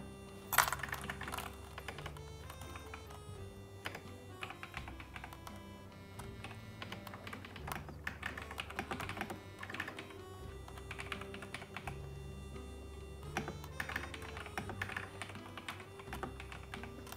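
Typing on a mechanical keyboard fitted with LeoBog switches and a new keycap set, a steady stream of close, clicky keystrokes with brief pauses, over faint background music.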